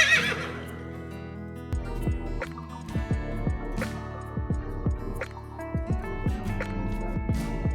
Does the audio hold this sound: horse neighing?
yes